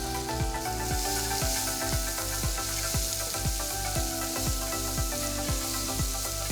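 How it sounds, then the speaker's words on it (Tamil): Chopped onion sizzles steadily in hot oil with asafoetida, a dense crackling hiss with a rhythmic scraping of a spoon stirring the pan, no voices. "1 பெரிய வெங்காயம் பொடியா நறுக்குனது போட்டு வதக்குங்க"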